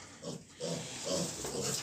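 Piglets near a sow on a farm, several short nasal grunts and squeals in quick succession, close and clear with no talk.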